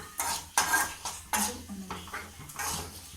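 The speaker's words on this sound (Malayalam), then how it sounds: "ഇളക്കി കൊടുക്കാം." A spoon scrapes and clinks against a pan while chilli powder is stirred into oil for a passion fruit pickle, giving a few distinct metallic stirring strokes at close range with no talking.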